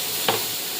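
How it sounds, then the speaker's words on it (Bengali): Mustard seeds and chopped raw mango sizzle in hot oil, a brief close hiss with a quick spatter burst in the middle. "এখন দিয়ে দিলাম সর্ষে, ছেড়ে দিচ্ছি কুচনো আমগুলো।"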